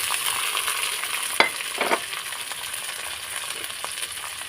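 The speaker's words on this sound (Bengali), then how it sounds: "তারপরে এখানে টমেটো আর কাঁচা লঙ্কা কুচি দিয়ে দেবো।" Chopped tomatoes and green chillies sizzle in a pan with onion and garlic that have already been fried red, making a steady frying hiss with a couple of sharp stirring scrapes and no voices.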